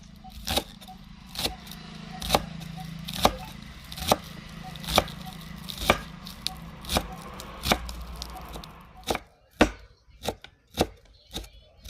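A knife finely chops ginger on a board for a Chinese-style soybean chilli: a dozen or so crisp, close strikes at an uneven pace that quickens into quick clustered chops near the end.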